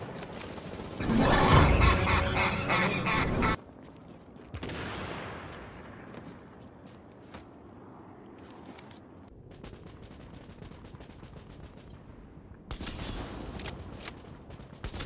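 Automated turret in The Division opening up with a loud, dense burst of rapid gunfire, then a longer stretch of quieter scattered shots and mechanical clatter, with another sharp volley near the end.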